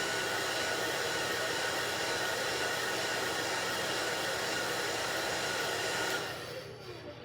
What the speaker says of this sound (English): I'm going to touch this with the blow dryer